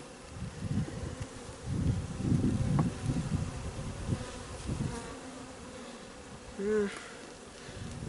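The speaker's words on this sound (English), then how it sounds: "this is the hive that's really active at the moment" Honey bees buzzing around a very active backyard hive during an inspection, a steady close drone with individual bees passing near, plus light wind and rustling.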